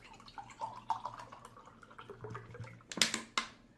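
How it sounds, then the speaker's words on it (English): Fresh water poured into a cup, heard as soft close drips and trickles with a few brighter splashes near the end, alone without talk. "I'm going to add fresh new water to the cup."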